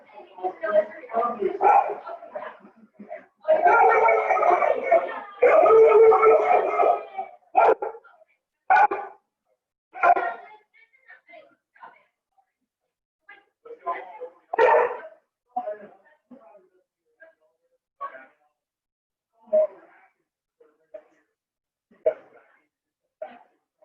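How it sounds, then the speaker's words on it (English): A friendly dog barks and yips in short bursts indoors, close and fairly loud, with pauses between barks and people talking nearby. "We have a dog in here. He's very friendly."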